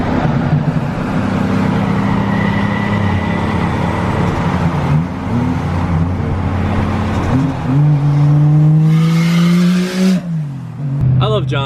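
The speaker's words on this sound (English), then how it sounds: "Look at John driving the Chaser with one tail light." A Toyota Chaser drives close by with a loud engine revving up and down through several gear changes, its sound swelling near the end, while voices talk over it.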